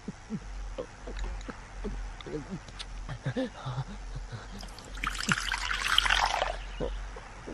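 Water poured from a vessel, trickling and splashing in a burst that grows in the second half, following faint talk and scattered small sounds.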